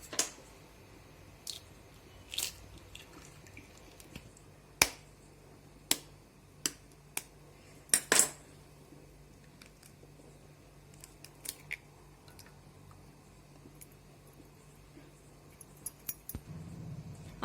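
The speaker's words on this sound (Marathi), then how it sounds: "अंडी मी फोडून घेत आहे।" Two eggs cracked one after another for a Marathi-style onion and chilli omelette, heard as several sharp, isolated taps and cracks spaced across a quiet kitchen, each brief and close.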